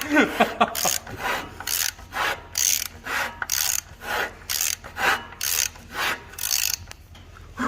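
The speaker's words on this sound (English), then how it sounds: "Reams out a crusty hole." A reamer cleans out a crusty, crud-filled hole during an engine teardown. It makes close, loud rasping scrapes in a steady rhythm of about a dozen back-and-forth strokes, each separated by a brief pause.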